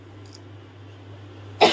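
A brief cough or throat clearing erupts at the end over a steady low electrical hum, in a village home while cooking.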